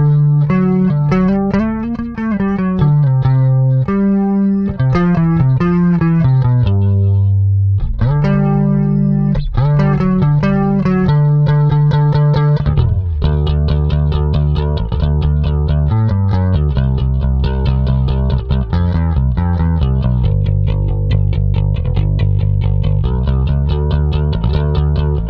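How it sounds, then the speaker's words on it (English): Bass guitar played with a pick on the neck pickup, running through a Walrus Audio Julia chorus pedal on a clean channel: a loud, shimmering intro bass line of sustained notes and quick picked runs, alone with no talking. "So we'll turn that on and I'll just give you a very quick sound sample on the clean channel. This is full neck pickup with a pick."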